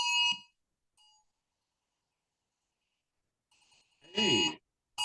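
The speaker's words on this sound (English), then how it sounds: "Oh, storm alarm." A storm alarm sounds for a tornado warning: short tonal electronic bursts, one near the start and one at the end, with faint beeps between and a loud harsh voice burst just before the last tone.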